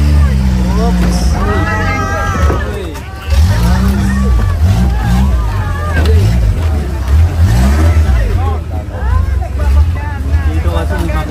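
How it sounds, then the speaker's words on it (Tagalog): A motor engine runs and revs at close range under a market in Thailand, a loud low rumble surging and falling, with people talking over it and a background crowd babble. "Dito kasi may makina po."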